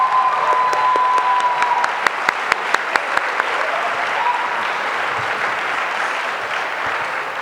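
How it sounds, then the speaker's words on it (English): Steady applause from a sizeable crowd at a youth leadership awards ceremony fills the whole stretch, dense and continuous, with a few sharper claps popping out near the middle. "Let us have another round of applause for 2011's Queer Youth nominees and awardees."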